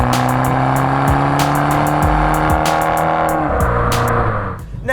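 Loud, close engine note from a Fiat 500 Abarth under way, revving through shifts with sharp exhaust crackles and pops, easing off at the end.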